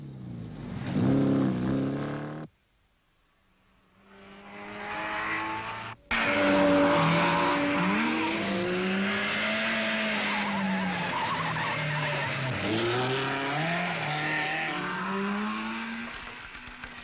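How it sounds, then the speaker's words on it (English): Late-1950s rally cars on an Alpine hill climb, a Porsche among them, roar loudly past with engines revving hard and tyres skidding through bends, the sound continuous apart from a brief near-silent gap early on. "A battle for fastest climb. Constant's best so far. The Porsche is frantically trying to make up time lost further down."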